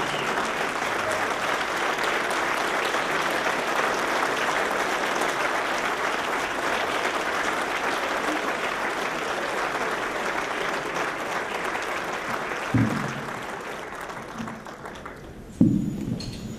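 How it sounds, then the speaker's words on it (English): A standing audience at a hall of fame awards ceremony gives a long, full round of applause, dense and continuous, with a few louder knocks near the end as it begins to fade. "if you guys stand and give a round of applause"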